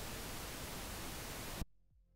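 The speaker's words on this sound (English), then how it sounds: "we can choose whether we want to have a sine wave at 1 kHz or pink noise" Steady broadband pink noise test signal from an Xvive AT-1 portable audio tester plays loud and even for about a second and a half, then cuts off abruptly into near silence.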